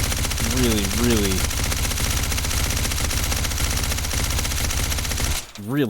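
Rapid automatic rifle fire from a mag dump through a HUXWRX suppressor in a shooter video game, a dense, steady rattle lasting about five seconds before cutting off abruptly, with a brief voice near the start.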